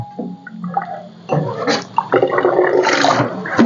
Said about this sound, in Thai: เริ่มเดือดแล้วนะ เดี๋ยวให้เดือดสักสองพุ่งนะคะ